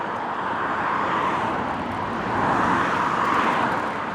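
Steady roadway traffic roar heard during an outdoor bike ride, a continuous broadband rush that swells slightly midway as vehicles pass nearby.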